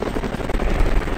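Rapid automatic gunfire in a Roblox police-and-criminal game, a dense rattling volley that stays loud and steady without pause.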